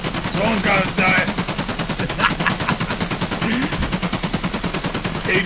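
Automatic gunfire in the shooter Escape from Tarkov, a long, steady, rapid stream of loud, close shots that keeps going for several seconds, with voices talking faintly underneath.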